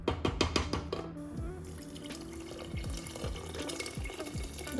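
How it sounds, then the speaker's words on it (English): Water runs from a tap into a cooking pot in a home kitchen in India, a steady splashing pour that begins after a few sharp clatters and continues at moderate level to the end. "I need to add some water."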